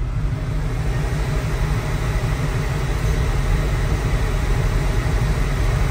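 Air conditioning in a 1969 Chevrolet Camaro blows hard and steadily, a loud, broad rushing roar that stays constant throughout with no talk over it.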